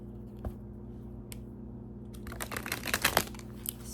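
Tarot cards being shuffled by hand during a reading, soft and quiet at first, then a louder burst of riffling, crinkly card flutter in the second half, with a low steady hum underneath.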